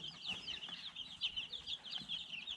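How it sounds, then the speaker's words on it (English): Baby chicks of Dominique and Rhode Island Red breeds peep continuously in a busy, high-pitched chorus of overlapping chirps, close and fairly soft, with occasional faint rustling. "They're just precious chicks."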